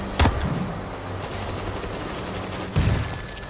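Two short bursts of machine gun fire in a video game set in Moscow, each a loud rapid volley, with a steady low hum of game ambience in between.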